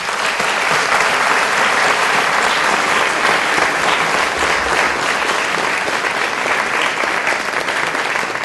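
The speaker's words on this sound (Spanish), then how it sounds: "a todos ustedes les pido por favor les retribuyamos con un aplauso" A seated audience applauds steadily at a lecture in Santa Cruz, a dense, loud, even wash of clapping that holds for the whole stretch with no break.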